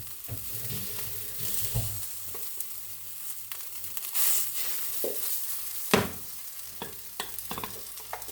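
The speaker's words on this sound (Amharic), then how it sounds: "ቂጣውን እንጋግራለን" Teff flatbread baking in a pan gives a soft steady sizzle at close range, with scattered scraping and spoon knocks and one sharper clack midway.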